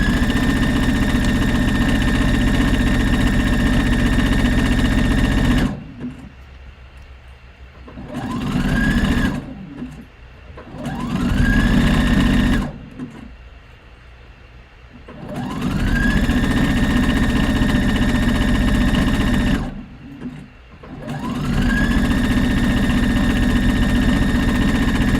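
A sewing machine stitches in loud, close, sustained runs of steady motor hum and rapid needle clatter, stopping briefly several times, with each restart ramping back up to speed.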